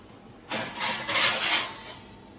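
Plates are pulled out and dishes clatter in a home kitchen, a short burst of clinking and scraping that rises suddenly, lasts about a second and a half, then stops and leaves quiet.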